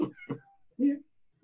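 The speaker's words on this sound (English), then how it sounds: "I think the cat wants full attention." A house cat meows several times in short, close, distinct calls, each one rising and then falling.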